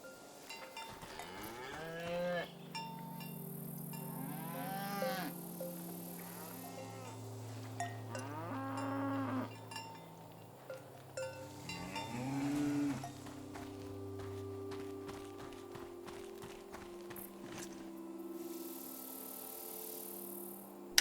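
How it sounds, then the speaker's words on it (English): A cow in the video game Season: A Letter to the Future gives several long, low moos spread across the stretch, with a cowbell clanking and soft ambient game tones underneath. "A beautiful cow named Gorp."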